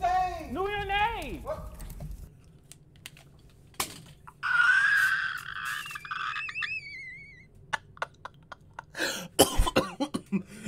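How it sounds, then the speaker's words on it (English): A sharp cough bursts out among laughter and chatter, followed by other brief throaty sounds and clicking noises, all close by. "You know when you laugh so hard to where you cough? Yeah. That just happened."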